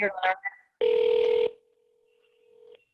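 A phone rings on an outgoing call during a webinar on live dialing, with a single loud ring tone after a brief spoken voice, then a faint fading tail.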